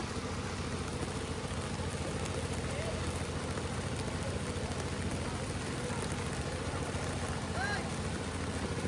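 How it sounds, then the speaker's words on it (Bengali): Steady monsoon rain falls over a village where paddy is being planted in the fields. The hiss is dense and continuous, close and even throughout, with no gaps. "এই যে একদিকে পাহাড়ে বৃষ্টি হইতেছে আর একদিকে মাঠে সবাই ধান লাগাইতেছে"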